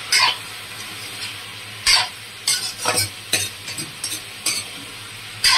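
Swamp eel pieces seasoned with turmeric and salt fry in a pan, a steady sizzle broken by several loud scraping stirs at irregular intervals.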